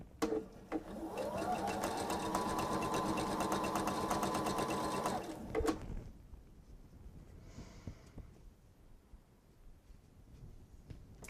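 A home sewing machine chain-pieces small quilt cornerstones onto white pieces for a table runner, running in one steady, close whirring burst for about five seconds before stopping, leaving faint handling sounds.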